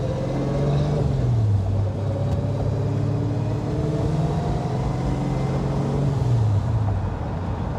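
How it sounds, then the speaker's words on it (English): A 1971 Plymouth Barracuda convertible engine idles with a deep, steady rumble, close and continuous, its low pitch dipping and rising slightly as the revs shift. "That engine sound, Alan."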